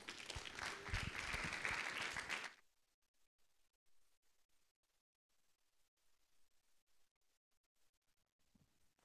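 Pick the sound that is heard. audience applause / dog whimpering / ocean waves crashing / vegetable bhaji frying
audience applause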